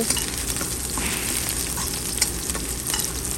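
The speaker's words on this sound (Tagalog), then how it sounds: "ilagay natin yung sibuyas. Pagisa natin. Halu-haluin." Onions sautéing in a pan for chopsuey, a constant close sizzle and crackle of hot oil with occasional stirring scrapes, no one speaking.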